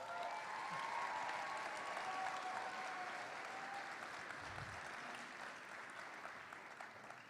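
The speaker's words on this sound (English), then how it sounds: "Let's give them a round of applause." A large arena crowd applauds the Albany team, a steady dense wash of clapping that stays loud before slowly thinning, with a few cheers mixed in.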